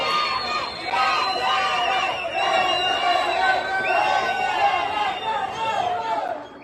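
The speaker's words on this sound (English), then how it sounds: "You're going to see the crowd outside yelling close up, and saying afuera, afuera, meaning close up and come outside" A street crowd of protesters outside shouts and chants together in loud, overlapping cries that rise and fall in waves, close by and continuous with many voices mixed in.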